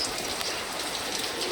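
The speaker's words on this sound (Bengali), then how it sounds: "অনেক জোরে সোরে বৃষ্টি" Heavy rain pours down in a dense, constant hiss of drops hitting surfaces, loud and unbroken for the whole stretch, with no voices.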